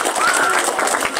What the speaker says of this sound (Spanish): Tú aplaudes con ganas.